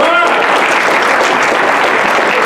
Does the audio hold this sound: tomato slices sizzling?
no